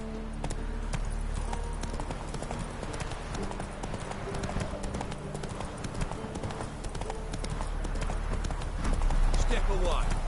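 Roach, a horse in The Witcher 3, gallops with a steady rapid clip-clop of hooves on the ground, loud and close, while a voice talks over the hoofbeats.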